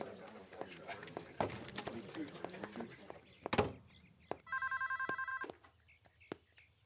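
A telephone rings once in a short electronic burst after scuffling footsteps and a sharp knock, with indoor movement around it and people talking earlier.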